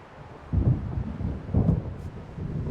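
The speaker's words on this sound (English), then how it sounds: "It seems there's a storm coming." Thunder rumbles from an approaching storm in the game Alan Wake Remastered, two deep low booms a second apart over a steady windy background.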